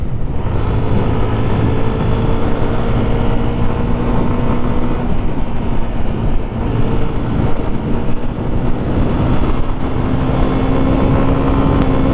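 A Yamaha FZ250 motorcycle engine pulls steadily with a loud, continuous drone and slowly rising pitch as it runs up through the gears, heard close with wind and road noise.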